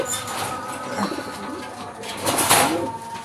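Pigeons coo in soft, rounded murmurs close by, with a few sharper flutters and shuffles, and a voice speaks briefly in the background.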